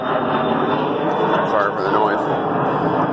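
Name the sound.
airplanes flying overhead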